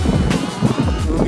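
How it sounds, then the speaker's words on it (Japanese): Strong offshore wind buffets the microphone on the Sea of Japan coast on a late-October evening, a loud, continuous rumbling roar with gusty surges. "今ちょっと強いオフショアがまた吹き始めました。"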